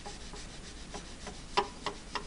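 A Scotch-Brite pad scrubbing stubborn, pitted metal, heard as short close rubbing strokes with a few sharper scrapes.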